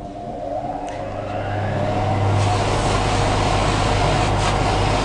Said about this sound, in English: So I'm going to put it back on again, start up the motor.